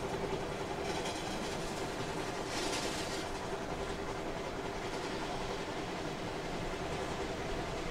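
A train runs steadily in the Indian Train Simulator game, a Jabalpur to Bandra Terminus superfast special with a faint continuous rail rumble and light clickety-clack at low volume, with no talk.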